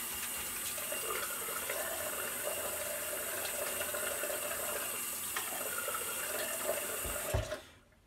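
Tap water runs in a steady, close rush into a sink while a face is wetted before a cedarwood and clove shave, then cuts off abruptly near the end.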